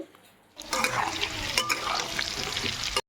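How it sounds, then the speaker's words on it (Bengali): Potatoes frying in a pan, a steady close broadband sizzle that starts abruptly after a quiet half second and continues evenly to the end, with occasional pops and no talking. "এদিকে আমি আলু ভাজা বসাবো"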